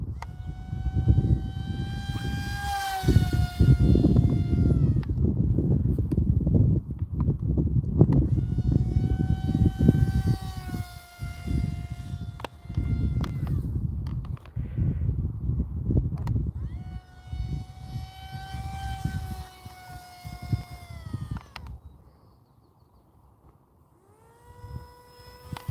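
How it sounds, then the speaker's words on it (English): A small, light RC jet with a brushless motor on a speed run, its whining motor rising and falling as it passes repeatedly, loud and close at times, then fading toward the end. "Alright, speed test. This thing has a brushless motor, and it's really light."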